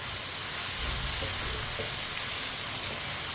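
Chopped tomatoes and green chillies cooking in a pan, a steady, close frying sizzle with a constant hiss and faint stirring bumps.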